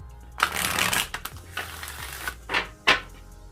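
Tarot cards shuffled close by in a few quick riffling bursts with soft papery rustle between, then two short sharp flurries near the end.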